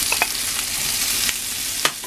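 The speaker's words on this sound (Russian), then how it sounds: "Паприка не должна у нас сгореть, поэтому быстренько мешаем и добавляем тыкву." Pumpkin and paprika being stirred and fried in a pan, a steady hiss of hot oil with a few brief scrapes of the stirring utensil, close and without speech.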